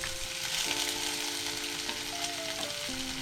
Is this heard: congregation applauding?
no